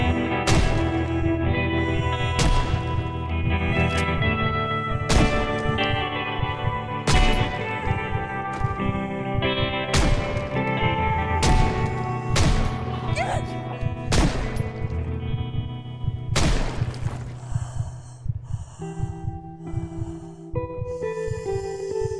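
Pistol shots in the zombie survival game Project Zomboid, a series of about a dozen sharp, loud reports spaced a second or two apart, heard under a steady narrating voice with low music beneath.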